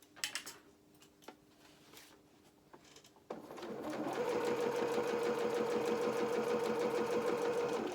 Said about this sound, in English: sew along this underarm seam at 1/4 inch